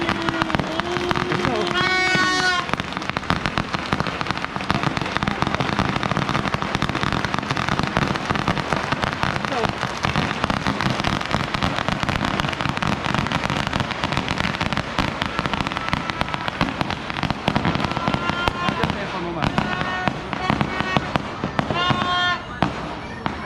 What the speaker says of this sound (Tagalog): Doon maganda magpapatok eh.